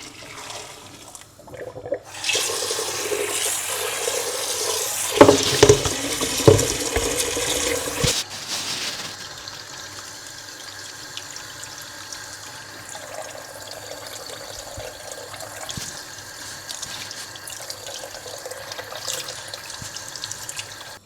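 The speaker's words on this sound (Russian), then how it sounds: "Хорошенько промываем кастрюлю и мясо промываем" Tap water runs and splashes loudly into a pot for several seconds, then drops to a quieter, steady trickle of rinsing the pot and meat with occasional clinks.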